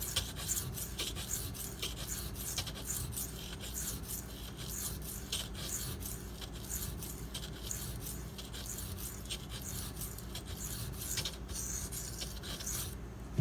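A Spyderco Dragonfly V-Toku2 knife drawn repeatedly across a sharpening stone, producing a continuous run of soft, close rasping strokes at an even pace with no voices.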